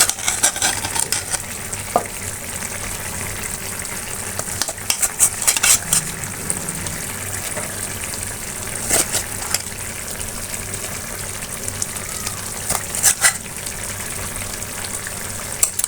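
Fried sea fish going into an eggplant curry on the stove, with steady sizzling, stirring and clinks of a spatula against the pan throughout, loud and close, no talking.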